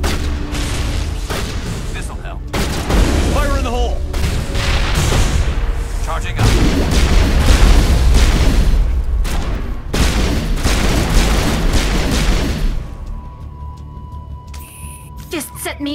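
Grenade blasts and gunfire in the video game Mass Effect, with heavy booming bursts and rattling shots rolling on loud and continuous, then dropping to a quieter hum near the end; voices talk over the fighting.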